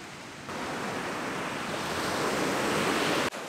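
Ocean surf at a beach near a holiday park in Bendalong, New South Wales, a steady roaring wash of breaking waves heard loud and continuous, mixed with some wind.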